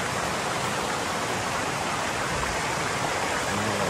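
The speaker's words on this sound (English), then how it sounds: "The waterfall looking nice." Seven Sisters waterfall and river in Grenada roar in a steady, dense wash of falling and flowing water, loud and constant throughout with no voices.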